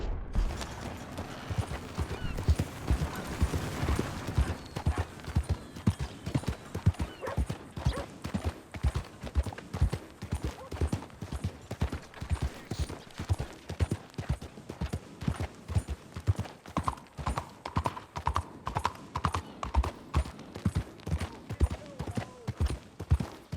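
Horse hooves clip-clop at a steady trot in the video game Red Dead Redemption 2, a regular rhythmic series of close, crisp hoofbeats running the whole time, with occasional game effects and a brief whinny mixed in.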